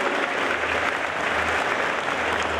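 An audience at a costume event applauds loudly for a participant, a short burst of dense, even clapping close by with a faint low rumble of the crowd beneath it.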